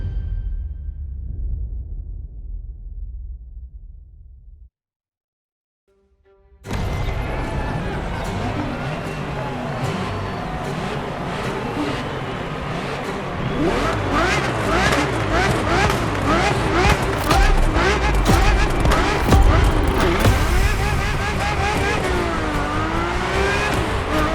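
A Ferrari F50 racing in The Crew Motorfest, its engine revving hard and loud with rising and falling pitch through gear changes. It follows a low rumble and a brief silence, and a voice speaks over the engine.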